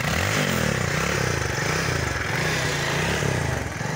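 A motorbike engine runs close by, a continuous rough chugging drone with slight rises in revs and no talk.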